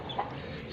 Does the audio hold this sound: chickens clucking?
yes